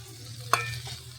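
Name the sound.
stirring fried cabbage and vegetables for veg pulao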